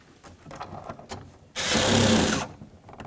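Mounting bolts for a side mirror on a 1994-2004 Chevy S-10 are driven in: faint clicks and rattles, then a single loud, close power-tool whir lasting about a second.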